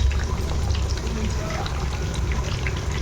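Tuna fish pieces sizzle in hot oil with curry leaves, a steady dense crackling and hissing close by throughout, with no talking.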